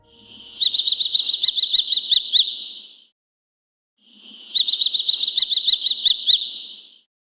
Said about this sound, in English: Here is what a kestrel sounds like.